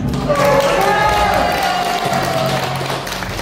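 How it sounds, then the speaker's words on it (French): A stage audience applauds a performer at a private mentalism, magic and hypnosis show, giving steady, dense clapping and crowd noise throughout with voices heard over it. "Une journée qu'on applaudit Denis"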